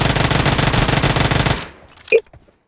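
An MG3 light machine gun in a battle royale shooter fires a sustained, rapid, loud burst for about a second and a half, then cuts off, followed by a single sharp click.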